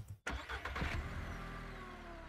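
A car in the Ranch Simulator video game, out of fuel, cranks with a sudden burst of engine noise that churns briefly and then fades into a dull, sustained rumble without catching.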